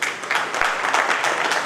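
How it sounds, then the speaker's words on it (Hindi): An audience applauds steadily during a run of member introductions at a party gathering in Delhi, a dense, sustained clatter of many hands that stays even and fairly loud throughout. "ये तालियां बजती रहनी चाहिए सभी"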